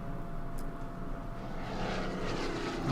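IL-2 ground-attack plane in the wartime strategy game Order of Battle: Panzerkrieg, a steady propeller engine drone holding at close range and swelling slightly louder toward the end, with no voices.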